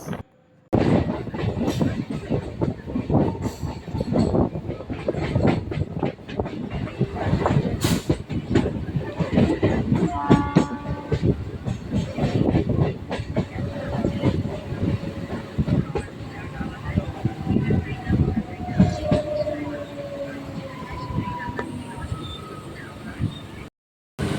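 A Bali to Bardhaman local train on the chord line rumbles steadily along the tracks with rhythmic rattling and clacking throughout, loud and close, as if heard from inside a carriage.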